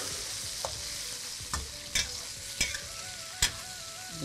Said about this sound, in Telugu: ఈ విధంగా ఇలా మనం ఈ మటన్ని కంప్లీట్గా షాలో ఫ్రై అయితే చేసుకోవాలి